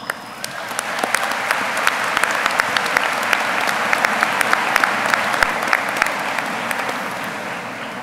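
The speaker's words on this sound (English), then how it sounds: "Please give our special guests a round of applause." Loud sustained audience applause at a high school graduation ceremony for the Class of 2018, a large crowd clapping steadily with sharp individual claps standing out before it tapers slightly.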